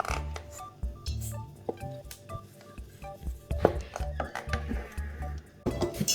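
Sugar and margarine being mixed for an Oreo vanilla cake: irregular scraping, tapping and clinking of a utensil against a bowl, close by, with a person talking over it.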